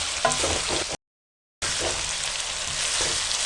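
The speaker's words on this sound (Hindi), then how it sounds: "2 मिनट के लिए आपने मज़ीद फ्राई करना है।" Potatoes and eggs fry in a pan with a steady, close sizzle and occasional stirring scrapes, broken once by a brief gap of silence.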